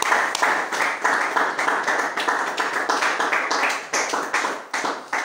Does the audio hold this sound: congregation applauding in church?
yes